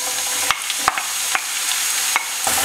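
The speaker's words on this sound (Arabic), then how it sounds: "حطيت شويه زيت يسخن وباش نضيف البصل" Onion frying in heated oil in a pan, with a steady sizzle throughout and a few sharp clinks or stirring taps standing out at intervals.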